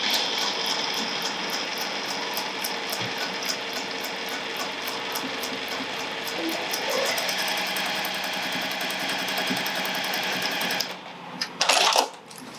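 A sewing machine stitches a clutch bag, running in a steady continuous whirr close by for most of the stretch, then stopping near the end with a few brief handling noises.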